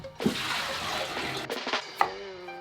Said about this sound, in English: I'm just gonna kind of agitate them to get some starch off, rinse them